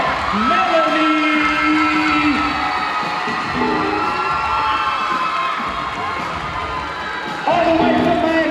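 A large crowd at a high school piano slam competition cheers, whoops and shouts for a contestant being introduced, a loud continuous roar with an announcer's voice cutting through.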